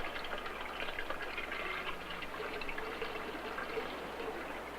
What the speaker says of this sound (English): But if we fill one side with cold water